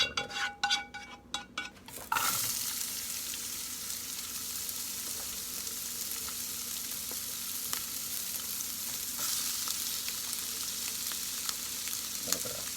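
Onions sauteing in a pot for turkey stuffing, with a brief clatter of them dropping in and then a loud, steady, close sizzle that holds for the rest of the stretch.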